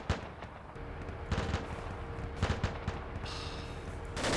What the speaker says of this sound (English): explosions and stuff are going off by my head